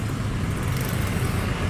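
Kawasaki ZX and Harley motorcycle exhausts rumble loud and steady, a dense, continuous engine drone close by with no pauses and no talking.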